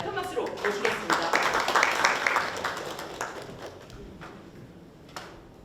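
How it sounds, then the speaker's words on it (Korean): An audience at an indoor Korean labor-rights forum in Busan claps to welcome a speaker, a dense burst of applause that peaks and then tapers off, with faint room noise afterward. "큰 박수로 모시겠습니다."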